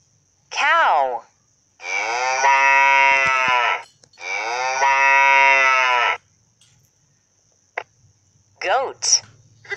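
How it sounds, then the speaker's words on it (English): A cow moos twice in long, low, sustained calls, loud and close, with brief shorter sounds before and after in an otherwise quiet setting. "Cow."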